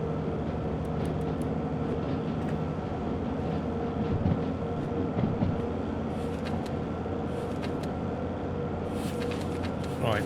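A runaway train in Derail Valley rumbles along continuously, a low rolling drone of wheels and wagons with faint rattles and clanks on top.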